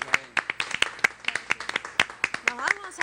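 A small studio audience claps on a television talk show: scattered, uneven hand claps with a sharp rhythm, fairly close, as a voice speaks over them.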